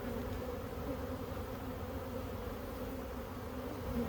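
Honey bees hum in a dense, steady drone at an opened hive frame during a winter Formic Pro varroa mite treatment, close and continuous with no talk.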